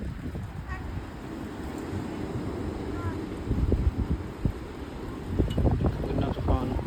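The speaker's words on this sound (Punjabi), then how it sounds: "ਬਰਫ਼ ਅੰਦਰ ਨੂੰ ਪੈ ਰਹੀ ਹੈ, ਹਵਾ ਚੱਲ ਰਹੀ ਹੈ ਪੂਰੀ।" Snowstorm wind blows hard past an open balcony screen, a rumbling, buffeting roar with gusts that grow stronger and choppier toward the end.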